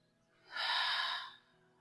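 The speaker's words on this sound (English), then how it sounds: "Inhale, exhale." One deep, slow inhale rises, holds as a breathy rush, then fades away, close to the microphone and quiet, with no other sound around it.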